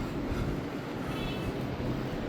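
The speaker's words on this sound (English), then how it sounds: "This is a Coney Island-Stillwell Avenue bound G train." Alstom R160A subway car on a Coney Island-bound G train in New York, giving a steady rumbling interior ride noise with a faint rhythmic rattle and no talk.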